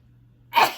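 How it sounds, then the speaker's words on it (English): A single sharp human sneeze bursts out after a moment of near silence, close and fairly loud, during a knitting session. "I'm about to sneeze"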